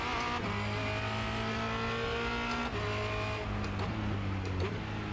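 A Formula Renault 2.0 race car engine screams through upshifts and downshifts on the Charlotte Motor Speedway Roval in a racing video game, loud and continuous with clear gear changes and no talk.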